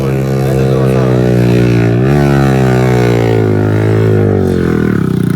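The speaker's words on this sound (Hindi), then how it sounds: "मोटरसाइकिल आ गया शोर आ गया" A motorcycle passes nearby at a crowded outdoor fair. Its loud, buzzing engine note rises and falls in pitch as it goes by, and the noise of the busy surroundings sits underneath.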